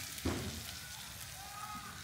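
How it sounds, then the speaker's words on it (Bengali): Chopped onions fry in a pan as they are stirred, a faint, steady sizzle with one brief clatter of the spoon near the start and soft scraping after. "এভাবে নেড়েচেড়ে পেঁয়াজগুলো আমি ভেজে নিব।"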